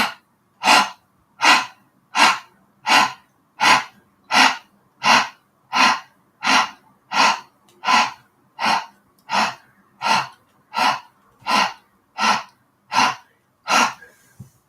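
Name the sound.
Kapalbhati breath of fire, rapid breathing through the mouth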